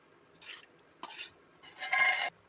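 Garlic lemon rice (chitranna) being mixed in a pot: three scraping strokes of a spoon, close and distinct, with the last one longer and loudest, and no talking.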